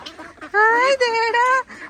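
A Muscovy duck calls close by with a raspy, nasal honk that comes in two drawn-out bursts after a brief softer sound, loud against a quiet background.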